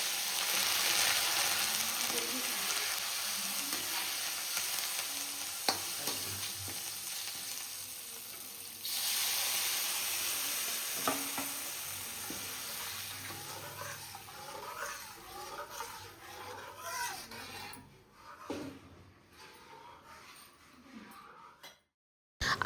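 Besan batter with spices cooks in hot oil in a kadhai, sizzling loudly at first, then bubbling and spluttering as it is stirred continuously, with occasional clinks of the spoon against the pan.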